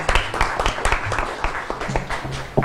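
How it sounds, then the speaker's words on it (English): Audience applause at a community presentation event, a small, sparse scattering of claps rising and falling over a few seconds, with brief murmured voices beneath. "Let's give her a round of applause"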